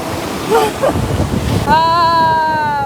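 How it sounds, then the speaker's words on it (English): Rough ocean surf crashes onto a beach at night in Benin, a loud, steady roar buffeted by wind noise on the microphone, with a voice calling out and a sustained whoop near the end. "Oh my god, the waves are crazy."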